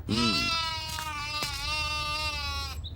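A young goat kid bleats loudly and close by, one long wavering cry held for nearly three seconds.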